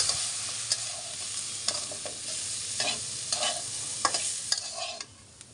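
Small cut potatoes fry in oil with a little salt, giving a steady close sizzle broken by repeated sharp scraping and clinking stirs in the pan.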